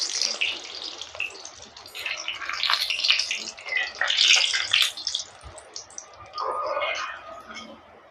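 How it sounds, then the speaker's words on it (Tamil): Food fries in hot oil, a loud close crackling sizzle that swells and fades in bursts, with a faint voice heard once. "நல்லா சூப்பராக பொரியுது"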